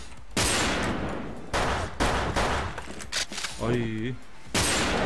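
Bursts of gunfire crack through a shooter video game match, several loud volleys separated by short gaps, with a man's brief exclamation near the end.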